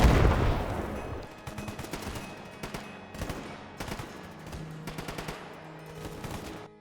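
Rapid bursts of automatic gunfire in the shooter game Stalker GAMMA, with sharp repeated volleys in clusters and short gaps between them, loud and close with no talking.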